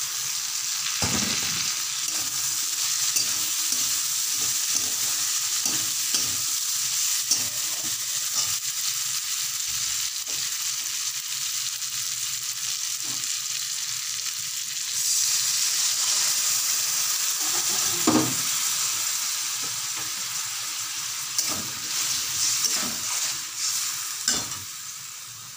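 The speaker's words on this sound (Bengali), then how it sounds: "এখন এই মাছগুলো দিয়ে দিচ্ছি" Fish pieces with spices such as chilli powder and cumin powder fry in a pan with a continuous bright sizzle, broken by scattered stirring knocks and scrapes; no voice is heard.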